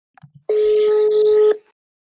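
A single steady electronic tone sounds for about a second on an iPhone 4 call, a ringback beep preceded by a few faint clicks, clean and close with silence after.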